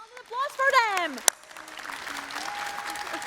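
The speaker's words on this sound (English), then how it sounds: "A round of applause for them." A MagicCon Amsterdam panel audience breaks into applause after a brief voice, the clapping spreading into a steady, moderate wash of many hands.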